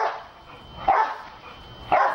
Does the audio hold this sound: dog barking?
yes